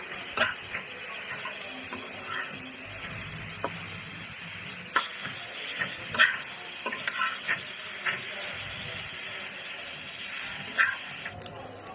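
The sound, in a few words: frying vegetable bhaji in a pan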